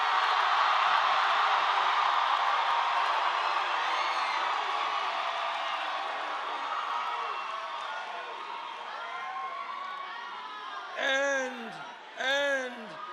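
A large crowd in Phoenix roaring loudly and steadily in a broad wash of noise that gradually eases, with someone speaking briefly over it near the end.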